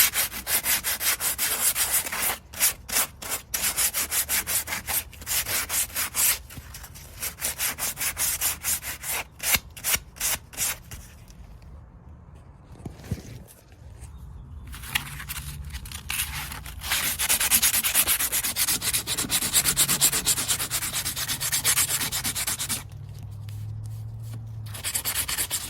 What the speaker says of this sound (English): So I've got some 220 grit sandpaper that I'm gonna use.